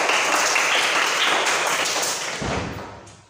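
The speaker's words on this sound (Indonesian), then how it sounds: "tepuk tangan buat Mas Kiki" A classroom group gives a brief burst of dense hand clapping for a student named Kiki. The applause is close and loud, then fades out over about three seconds.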